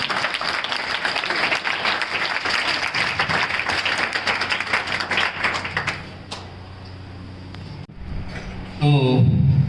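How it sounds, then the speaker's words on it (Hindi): Students at a school applaud to welcome a classmate back to their seat, loud sustained clapping for about six seconds that thins out and fades, followed by a brief voice near the end. "बैठ जाओ, जोरदार तालियों से स्वागत।"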